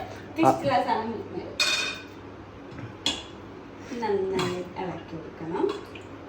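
A newly bought spoon clinks and scrapes against a pot in a home kitchen in a few irregular, close metallic taps, with people talking over and between them.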